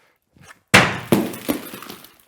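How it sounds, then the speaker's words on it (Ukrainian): A brick chunk thrown at a tempered glass sample during a safety test, hitting with a sudden loud crash followed by two more sharp impacts and ringing, crackling glass that fades out; a faint thud precedes it. "Другий зразок ми також будемо руйнувати цеглою бетонними шматками."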